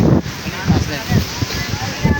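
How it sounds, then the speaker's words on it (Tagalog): Strong wind buffets the microphone in heavy gusts, with waves faintly audible behind the roar. "napakalakas ng hangin"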